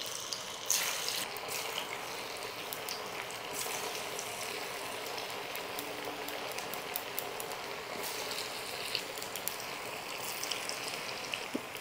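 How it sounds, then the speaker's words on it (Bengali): Cabbage and carrot Manchurian balls deep-frying in hot oil, a steady close bubbling hiss with faint clicks and spatters, continuous and alone throughout. "তেলটা গরম হয়ে গেছে, একে একে ভেজে নিচ্ছি।"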